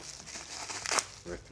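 Bubble wrap packaging for motorcycle brake and shift parts crinkles and tears close by in short rustling bursts, with one sharper ripping crackle midway, under a person talking.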